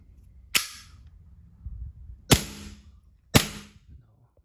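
A G19X BB gun fires three sharp, close shots spaced unevenly over a few seconds, each a crisp snap with a brief tail, over a quiet room with faint handling noise.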